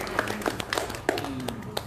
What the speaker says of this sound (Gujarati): તાળીઓ પાડી દો.